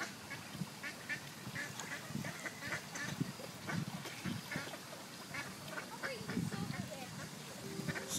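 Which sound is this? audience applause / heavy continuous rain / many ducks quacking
many ducks quacking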